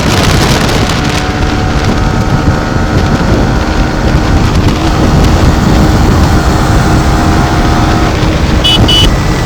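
Steady, loud rushing wind buffeting a microphone with a low engine rumble underneath from a Yamaha R15 V4 motorcycle being ridden, continuous throughout with no talk.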